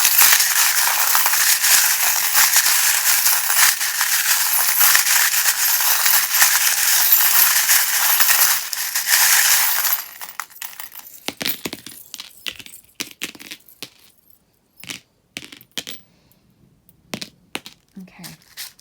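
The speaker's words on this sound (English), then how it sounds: "If you don't like the sound of the charms being shuffled" Tarot charms and dice are shuffled together, a loud, dense clattering rattle that lasts about ten seconds. Sparse clicks and taps of small objects follow.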